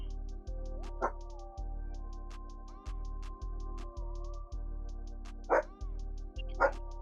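A dog barks a few times in the background, three short sharp yaps spaced apart over a steady low hum, with occasional faint clicks and tones.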